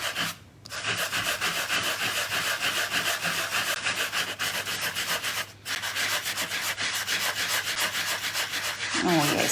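A sanding block scrubs back and forth over embossed paper in quick, steady rasping strokes, close and continuous with a brief pause or two, and no talking.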